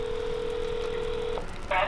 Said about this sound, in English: we're gonna go ahead, we're gonna call my wife